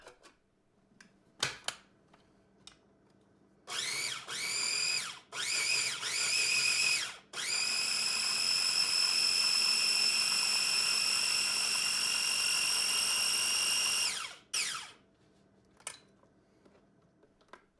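A kitchen blender whirs as it purees peaches, with two short bursts around four to seven seconds before a steady, loud run of about seven seconds. It then cuts off, leaving quiet room sound and a few soft clicks.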